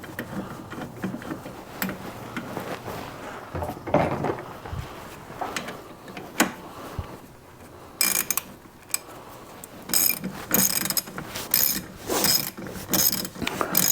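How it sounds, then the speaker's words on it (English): A torque wrench ratchets as the brake caliper bolts on an Audi Coupe Quattro or Porsche 996/Boxster S are tightened to 62 foot-pounds, giving close repeated clicking strokes with short pauses and bursts of denser ratcheting toward the end, with no talking. "these get torqued to 62 foot-pounds"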